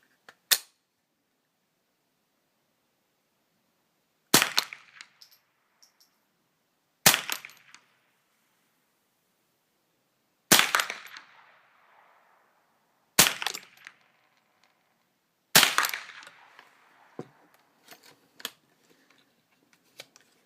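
High velocity rounds fired at a target, six sharp loud gunshots spaced a few seconds apart, each followed by a short echoing tail, with quiet gaps between.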